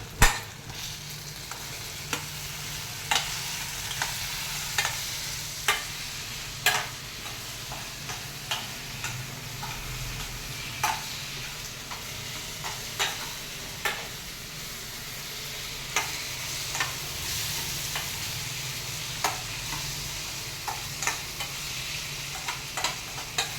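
Brown sugar mixture is stirred in a cooking pan over a steady frying sizzle, with regular spoon taps and scrapes against the pan recurring every second or two throughout, close and fairly loud, no talking.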